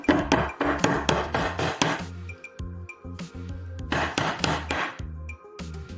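Nail hammered with a cable tie holding it: a burst of several quick sharp hammer strikes, then a pause with faint clinks, then another run of close, loud blows.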